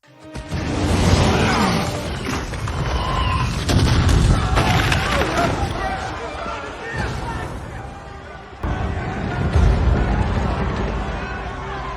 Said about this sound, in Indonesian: Flat melihat letusan bom dari arah kastil Dracula